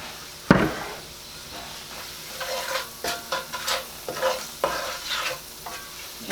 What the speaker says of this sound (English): Okay, just keep stirring it because you don't want it to burn.